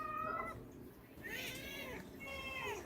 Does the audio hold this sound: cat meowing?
yes